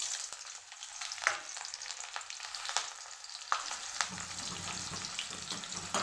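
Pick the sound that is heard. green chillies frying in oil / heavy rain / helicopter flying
green chillies frying in oil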